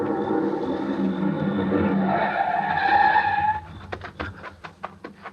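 A fast car roars in close and loud, engine and tires building to a long skidding squeal, then cuts off into a scatter of sharp clicks and knocks, staged as a 1950s radio drama effect.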